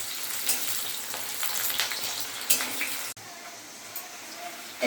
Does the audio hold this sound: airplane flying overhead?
no